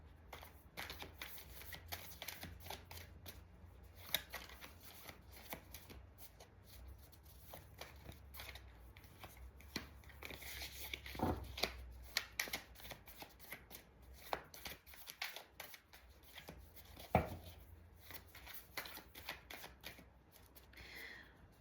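Tarot cards being shuffled repeatedly near the listener, a steady riffling and flicking with a few sharper snaps, no talking.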